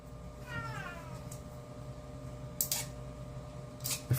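A male cat that has not eaten in two days gives one loud, drawn-out wavering meow, close by over a steady mechanical hum, followed by a few sharp clicks.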